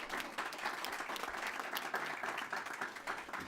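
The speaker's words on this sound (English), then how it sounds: "That's worth clapping." A legislative audience claps steadily in a dense wash of applause, with no break and at a moderate distance, filling the whole moment.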